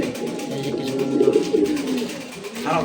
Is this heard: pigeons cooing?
yes